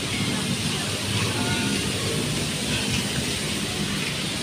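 Heavy rain pours down on a city street during typhoon Pepito, a loud, dense, continuous hiss of water that fills the whole stretch with low rumbling underneath.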